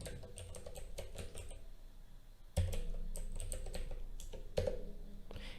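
A computer keyboard clacks close by in quick runs of keystrokes with short pauses between them, a few louder taps standing out.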